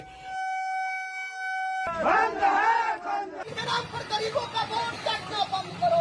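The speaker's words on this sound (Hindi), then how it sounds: "हाथों में झंडियां थामे हुए नाराज भीड़ और नारेबाजी" An angry crowd shouts slogans at a street protest during a Bharat Bandh strike called by trade unions, with rising chanted voices following a sustained horn-like tone at the start.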